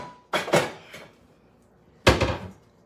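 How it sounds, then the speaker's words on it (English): A large wok is lifted out and handled, giving a couple of close metallic clunks and scrapes, a pause, then one sharper knock as it is set down; no one speaks. "And I'll show you the wok."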